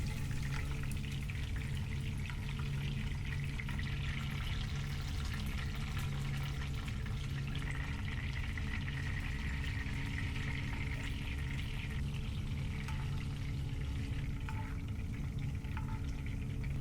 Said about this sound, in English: we're going to baste one side while the bottom's frying